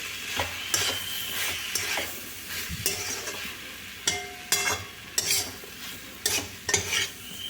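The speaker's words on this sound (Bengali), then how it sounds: "এই মাঝে মাঝে ঢাকা খুলে একবার করে নেড়ে নিচ্ছি" Tomato chutney with onion and cashews cooking in a pan, stirred with a spoon in sharp repeated scraping strokes over a soft background sizzle, close by and without talk.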